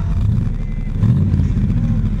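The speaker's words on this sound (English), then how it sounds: "That's revving it up a little bit." A car engine hums with a low, steady rumble that swells slightly midway, a mild rev rather than a roar.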